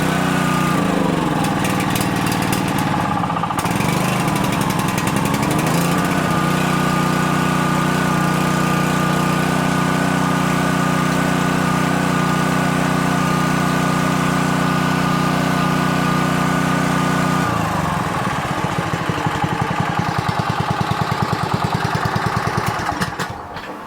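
Small engine of a Mi-T-M pressure washer running after carburetor cleaning, a close, loud, steady hum whose pitch shifts near the start and again toward the end.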